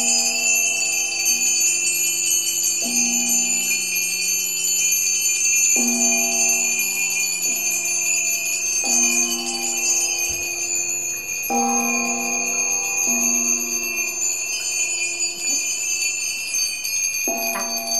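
Bells ring out in a series of clear, sustained tones, struck one after another with overlapping, ringing decays at close range and no talking.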